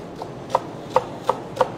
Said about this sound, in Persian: واسه خرد کردن کرفسش